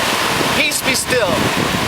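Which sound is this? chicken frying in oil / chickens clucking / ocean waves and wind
ocean waves and wind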